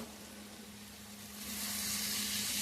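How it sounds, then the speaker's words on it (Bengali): Eggs, potatoes and soybean chunks frying together in a pan give a steady close sizzle that grows louder and brighter partway through, no voices. "এখন ভেজে রাখা ডিম আলু আর সয়াবিনটা দিয়ে দেব দিয়ে আর একটু কষে নেব"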